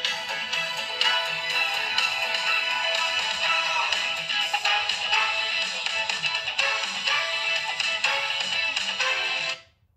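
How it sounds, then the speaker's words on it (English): A Google Pixel phone ringtone from the November 2025 Pixel Drop plays loud and alone, a bright repeating melodic pattern running steadily for about ten seconds before cutting off. "Here's the ringtone sound."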